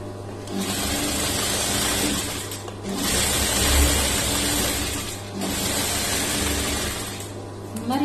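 A sewing machine stitches a lined blouse with a loud, continuous whirring drone, broken by two short pauses between runs and heard close up.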